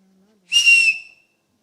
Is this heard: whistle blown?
yes